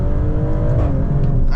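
Maserati Grecale Trofeo engine (2025) pulling hard under acceleration, a loud sustained growl with rising tone as revs climb, heard close from inside the car with no talking.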